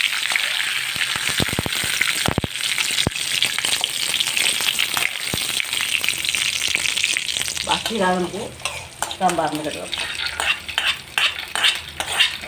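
Curry leaves and spices tempering in hot oil for coconut chutney, a steady close sizzle with crackling bursts and a few utensil clinks, while someone speaks briefly near the end.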